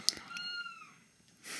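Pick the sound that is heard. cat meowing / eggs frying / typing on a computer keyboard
cat meowing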